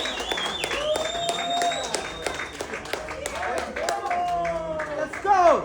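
An audience claps for the producer of a song, with a scattered run of hand claps mixed under voices and musical tones, swelling slightly near the end.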